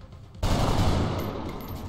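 Gunfire in XCOM Long War, a sudden loud burst of rapid shots that starts abruptly and rolls on in a sustained rattling volley, close and alone without talk.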